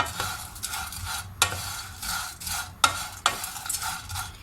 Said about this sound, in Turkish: Benimki kavrulmadığı için şu anda eriştemin renk alması için kavuracağım.